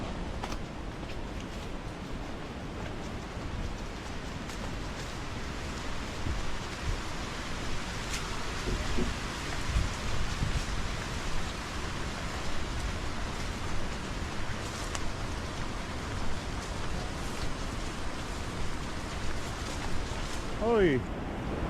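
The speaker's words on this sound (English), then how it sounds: "And then it started pouring rain" Heavy pouring rain during a storm in the interior of New Guinea, a steady broadband roar that holds constant and close for the whole stretch, with no voices over it.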